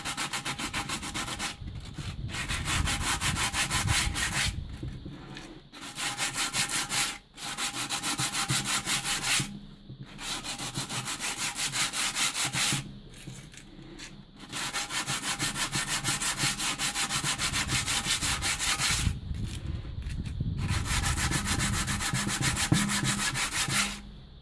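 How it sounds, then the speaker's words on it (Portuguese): Sandpaper scrapes over a cement vase made on a milk-carton mold in long, rough strokes, close and loud, stopping briefly several times for short pauses before the rubbing resumes. "Essa lixa aqui, ela come bem, ó."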